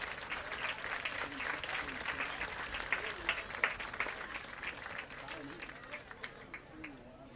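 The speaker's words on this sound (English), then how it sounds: "Please give these wonderful teachers a rousing round of applause" Gym or stadium audience at a high school event applauds teachers, a sustained wash of clapping with a few cheers and voices, fairly distant and gradually tapering off.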